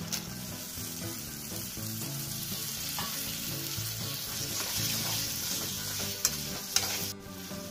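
Tomatoes sauté in a pan for egg biryani while a spoon stirs them steadily, giving a continuous close sizzle with soft scraping and a couple of sharp utensil clinks near the end.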